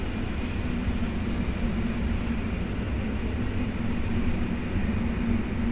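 A Polregio passenger train at Kraków Główny station gives off a steady, loud rumble and hiss that holds evenly throughout, with no voices.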